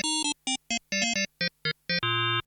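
A harsh, buzzy digital tone from an additive synthesis waveform on a Korg DSS-1 12-bit digital sampler stutters in short bursts of varying pitch, ending in a longer sustained note, fairly quiet with no voices.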